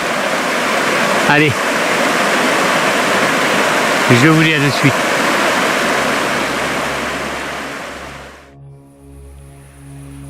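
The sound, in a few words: flowing river water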